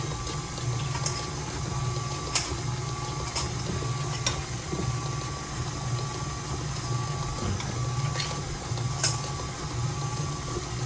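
Vegan coconut cookie dough being mixed with its flour mixture makes a steady low mechanical whir with occasional small clicks and knocks, close and continuous.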